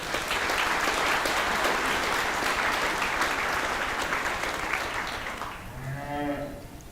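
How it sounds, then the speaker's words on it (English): Loud, sustained applause from an audience at a junior livestock expo, continuous clapping that fades toward the end, with a cow mooing briefly near the close. "Big round of applause for all these kids."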